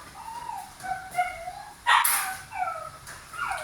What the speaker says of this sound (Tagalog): yung aso ko, nagwawala na yung aking mga